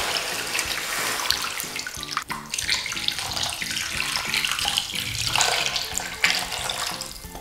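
Water pours steadily into a cooking pot for kare-kare, a continuous splashing gush close by that swells and shifts in pitch as the pot fills, with a clunk partway through.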